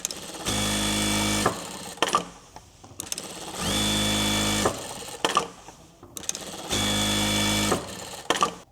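A sewing machine quilts a tote bag in three steady bursts of rapid stitching, each a couple of seconds long, separated by quieter pauses with small handling clicks.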